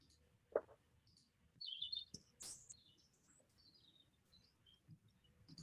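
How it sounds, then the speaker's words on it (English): Birds outdoors give a few sparse, faint chirps and short twittering calls separated by quiet gaps, with no one talking. "Those birds are still flying around over there"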